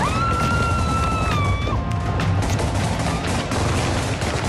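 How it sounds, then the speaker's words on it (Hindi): Gunfire from Taliban fighters dispersing a street protest in Kabul, Afghanistan: a dense, continuous crackle of shots with a chaotic crowd roar and shrill whistle-like tones, loud and close throughout. "तालिबानी अंधाधुंध फायरिंग कर रहे हैं"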